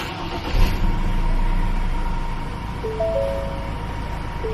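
A 2019 Ford Ranger Raptor pickup started by push button: a brief crank at the start settling into a steady, close engine idle with a low rumble throughout and no talk.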